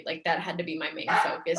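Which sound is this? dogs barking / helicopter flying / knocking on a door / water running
dogs barking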